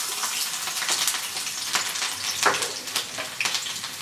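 Steady crackling sizzle of garlic frying in hot oil, with scattered pops and brief stirring scrapes, close and fairly loud throughout.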